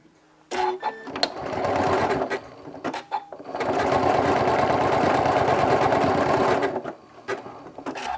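Sewing machine running long steady bursts of decorative stitching on a quilt-as-you-go crumb-fabric mug rug, with brief start-stop runs early on, then one sustained whirring stretch, close and loud.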